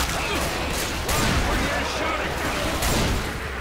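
Continuous gunfire from a zombie-shooter video game, Left 4 Dead, rattling on steadily for several seconds at fairly high level, with occasional heavier bursts and faint talk mixed in.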